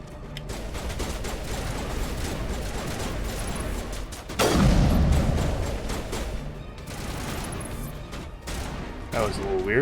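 Sniper fire and sustained gunshots in the game Mass Effect, dense volleys throughout with a heavier blast partway through, while people talk underneath.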